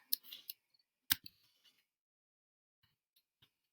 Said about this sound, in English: So I'm going to type in the entire number